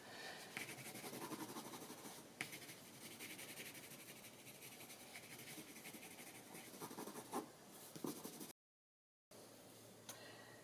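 A pencil scratches across paper during a watercolour sketch, giving a close, dry, continuous rasp with a few sharper ticks as strokes change direction, ending with a brief silent gap.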